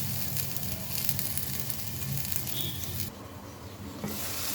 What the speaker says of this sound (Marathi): आपण टोमॅटोला छान शिजवून घेऊया.